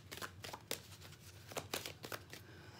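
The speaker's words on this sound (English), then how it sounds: "I saw that one when I was shuffling." Halloween Oracle cards are shuffled by hand, producing a faint, close series of crisp riffling flicks and soft slaps in an uneven rhythm, with no talk.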